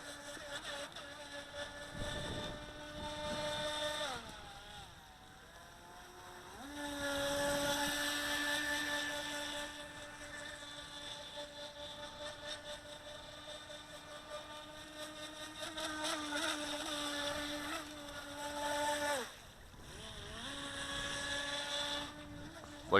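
A Feilun FT009 high-speed RC boat runs on water, its small electric motor whining in a steady high-pitched drone that dips and rises as the throttle changes, with brief lulls between runs.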